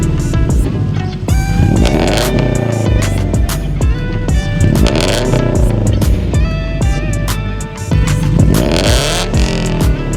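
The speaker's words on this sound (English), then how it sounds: "My exhaust setup is pretty loud." A 2014 Scion FR-S with a loud aftermarket exhaust revving repeatedly, its engine note climbing and dropping in close, loud blips that run one into the next.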